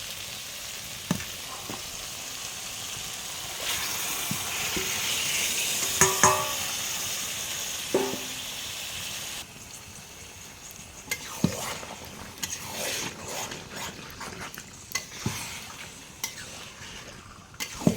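Chicken pieces stirred into fried spice masala in a pot cooked over a wood fire, a sizzle with scraping spoon strokes and occasional metallic clinks, close and with no voices.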